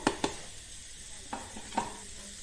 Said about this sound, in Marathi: हे आपण जे चुरलेलं खोबरं आहे ते ह्याच्यात घालूया